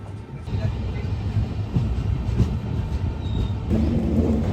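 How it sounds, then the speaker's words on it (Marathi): A train rumbles along the track as it turns through a curve, with steady rolling noise, fairly close, while a person talks over it. "बघा ट्रेन बघा कसं टर्न मारते बघा"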